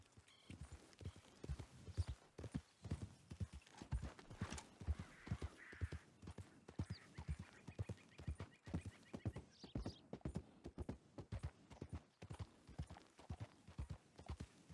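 Horse hooves clip-clopping at a steady walking pace in Red Dead Redemption 2, close and distinct, with a brief whinny partway through and no talking over it.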